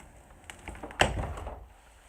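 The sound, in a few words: old door being removed in abandoned ranch home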